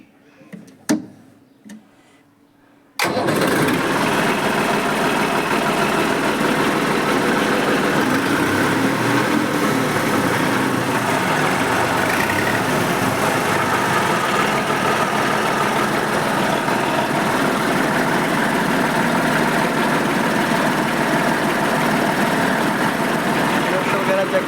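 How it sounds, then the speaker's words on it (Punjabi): A 2015-model self-start tractor engine fires up after a few faint clicks, then runs steadily and loudly close by, idling with a constant drone for the rest of the stretch. "ਤੁਹਾਨੂੰ ਸਟਾਰਟ ਕਰਕੇ ਟਰੈਕਟਰ ਦਿਖਾ ਦਿੰਨੇ ਆ ਜੀ ਆਪਾਂ ਸੈਲਫ ਸਟਾਰਟ ਆ"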